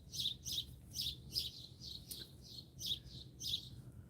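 Birds chirping outdoors near a firepit, a steady series of bright, repeated tweets in short bursts about every half second, moderately close, with a low background rumble and no talking.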